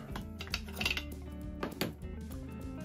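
Metal clinks and clatter as the metal cutting block is taken off a Darex jack plane during reassembly, several light close knocks and scrapes in quick succession, with no speech.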